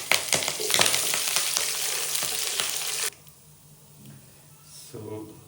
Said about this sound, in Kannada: ಕಡಲೆಬೇಳೆ, ಉದ್ದಿನಬೇಳೆ ಎರಡನ್ನು ಹಾಕಿ ಚೆನ್ನಾಗಿ ಫ್ರೈ ಮಾಡ್ಕೋಬೇಕು